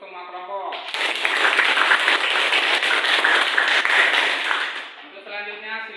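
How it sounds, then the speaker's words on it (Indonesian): A classroom of students gives a burst of applause for all the presenting groups, a dense, steady clatter of many hands lasting several seconds, with a teacher's voice speaking just before and after. "Tepuk tangan untuk semua kelompok"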